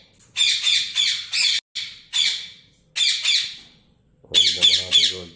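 Parrots in an aviary let out loud, harsh squawks in clustered bursts, several rapid calls at a time with short pauses, close and clear with no talk.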